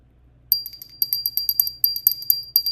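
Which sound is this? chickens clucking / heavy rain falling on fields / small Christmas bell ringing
small Christmas bell ringing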